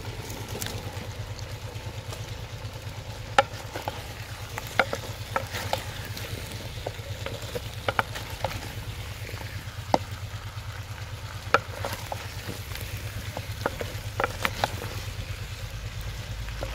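Potatoes being added and stirred in a clay pot over village-style cooking, with a steady low sizzle of frying and intermittent scraping and clicking from the stirring spoon, quiet and close.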